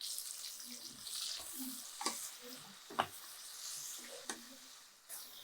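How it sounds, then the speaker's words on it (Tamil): Onions sautéing with salt in a pan, a faint soft sizzle with occasional sharp spatula clicks and scrapes against the pan, fairly quiet and close. "இப்போ இந்த வெங்காயத்துக்கு தகுந்த உப்பு போட்டு அதை நல்லா வதக்கிடணும்"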